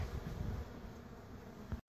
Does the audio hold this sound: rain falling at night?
no